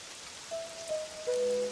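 Steady soft rain patters in the Pokopia video game, with a few brief chime-like game tones rising over it partway through.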